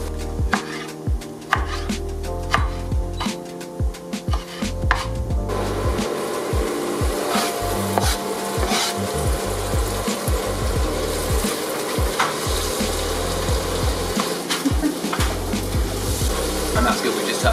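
A knife chops up scallop paella ingredients with steady, repeated scraping and cutting strokes against a board, loud and close, over a constant background hiss.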